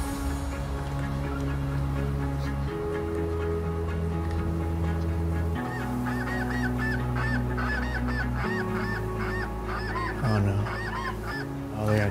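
A flock of snow geese comes in to decoys during a Hudson Bay goose hunt in Canada; many honks repeat in a steady stream, moderately close and clear over a low, constant background hum.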